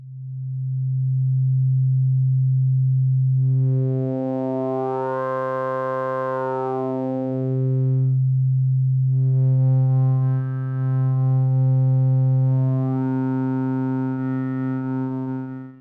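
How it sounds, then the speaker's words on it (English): Basel by Volt oscillator module in VCV Rack producing a steady, loud low sine tone, joined partway through by a brighter swept harmonic layer as its two modulation functions reshape the wave, with no voices. "It produces a sine wave and has two mod functions to manipulate the wave."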